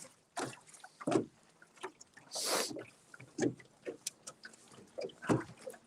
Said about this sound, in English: that's probably just a boat moving